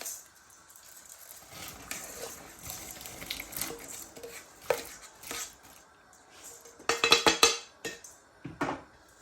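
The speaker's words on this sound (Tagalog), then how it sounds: "Ilagay na natin yung ating 1 cup rice." Dry rice pours and rattles into a pot of boiling water for congee, with a clattering burst near the end amid soft kitchen noises.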